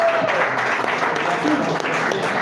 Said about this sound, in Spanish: Vamos a recibir un aplauso a Julián Fregonese